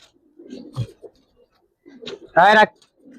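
A Giribaz pigeon hen on a rooftop gives a few short coos and soft grunts between pauses, close by, as someone speaks over her.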